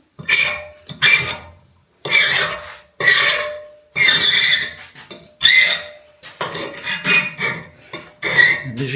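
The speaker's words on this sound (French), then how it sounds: "Un léger coup de lime sur le tour." A hand file rasps against a metal part spinning on a lathe, putting a light chamfer and deburr on steel or aluminium; loud, close bursts of scraping strokes repeat steadily with short pauses between them, no voices.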